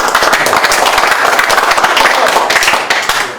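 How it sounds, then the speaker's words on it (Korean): An audience at a business lecture breaks into sustained clapping and applause, a dense, loud, steady patter of many hands filling the room throughout. "박수 치세요."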